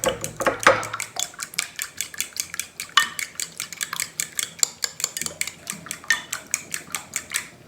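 A fork whisks two eggs in a bowl, a fast steady run of bright clinking taps against the bowl, close and clear, with no talk over it.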